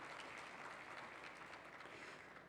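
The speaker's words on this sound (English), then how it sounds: "So please give them a round of applause for doing that." Audience at a United Nations big data forum on AI in Trinidad and Tobago gives a round of applause, dense steady clapping that fills the hall and fades slightly toward the end.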